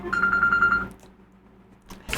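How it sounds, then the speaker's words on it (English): An incoming phone call in the video game Freedom Planet 2, a rapid electronic ringing pulse that trills for under a second, then fades into quiet game ambience. "Oh, I'm receiving a phone call."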